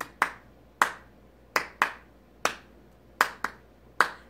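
Sharp hand claps in an uneven pop rhythm, eight crisp strikes over about four seconds, tapping out the backing beat of a song, close and clear with no talking.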